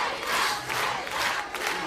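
A live television talent-show audience roars with continuous cheering and applause, a dense, loud crowd wash with no speech over it.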